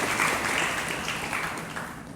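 An audience claps through a Jain religious discourse in a samavasharan assembly, a short burst of dense, continuous applause heard alone at steady loudness.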